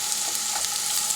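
Mushrooms and capsicum sizzle steadily in a hot pan, a bright continuous hiss of frying with faint crackles and soft stirring, close up and alone without any voices.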